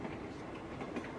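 A moving sleeping car train in a video game clatters along the rails, a continuous rumbling clickety-clack heard alone for a brief moment.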